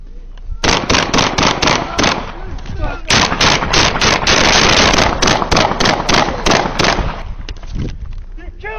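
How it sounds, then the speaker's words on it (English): Rapid bursts of gunfire ring out during a police confrontation with a dangerous criminal, with loud clustered shots in quick volleys and a denser sustained stretch in the middle, alongside shouting voices. "Shots fired."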